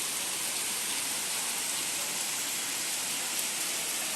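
Steady rain falls outside a house, a dense, even hiss that holds without pause for the whole stretch, with no voices over it.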